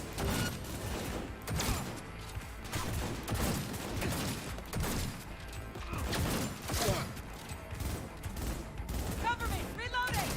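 Dense, chaotic gunfire from Cyberpunk 2077, overlapping shots and bursts in a continuous firefight with mechanical clatter, and voices mixed into the din.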